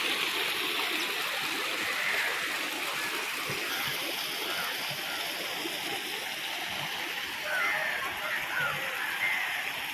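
Water of Vadattupara Waterfalls in Kothamangalam rushes and splashes steadily as a dense, continuous broadband roar, close and even throughout with no breaks.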